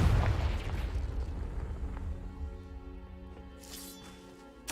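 Explosive Confringo spell blast from Hogwarts Legacy, a deep booming detonation at the start that rolls off into a long fading rumble with tonal hum, then a brief sharp hit at the end.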